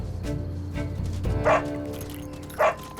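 A couple of boisterous dogs bark and yip in an urban park's off-leash area, short sharp barks recurring over a steady background hum.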